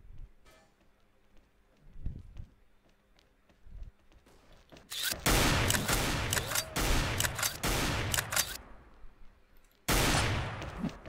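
Gunfire in the shooter game XSHOT erupts after a quieter stretch of scattered taps, with loud sustained volleys in the middle and a final sharp burst near the end.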